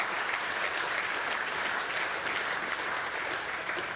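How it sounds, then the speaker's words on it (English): An audience at an awards evening for the New Zealand National Fieldays Society applauds steadily for a CEO, a dense, continuous clapping that holds at full strength throughout with no voices on top. "Let's have a round of applause for Richard Lindroos"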